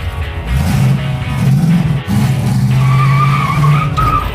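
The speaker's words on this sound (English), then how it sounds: "I always like it when your very first 2 feet of driving a vehicle are burnout." A rear-engine mini truck does a burnout, its engine roaring and tires squealing loudly and continuously at close range, with only a momentary dip partway through.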